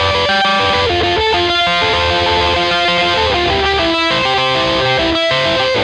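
An electric guitar plays through overdrive distortion, a loud, saturated tone, with sustained chords and steady rhythmic strums filling the whole stretch.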